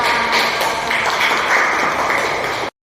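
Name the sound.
classroom applause for a student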